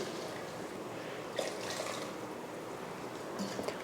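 Water poured into mutton salna in a pot after ground masala is added, a soft, steady broadband splash and trickle running throughout with a few small drips, fairly faint and with no talk.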